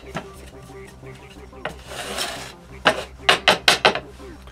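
A wooden puzzle is sanded by hand, with short rasping strokes and a longer rub midway, then a quick run of four or five rhythmic, close scrapes.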